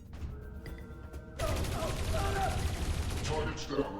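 Rapid gunfire erupts in the video game Dreamfall Chapters, a dense loud burst of shots that starts abruptly after a quieter stretch and runs continuously to the end.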